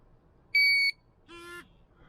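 A GZAIR SA103 travel carbon monoxide detector powers on outdoors with two short electronic beeps: a piercing high tone, a brief gap, then a lower, buzzier chirp, both loud and close against a quiet background.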